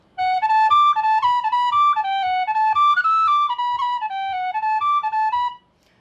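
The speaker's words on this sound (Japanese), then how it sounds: "そして普天音符で吹くと" A tin whistle plays a jaunty Irish jig tune in a sharply dotted long-short rhythm, clear and close, with light rhythmic taps keeping time beneath.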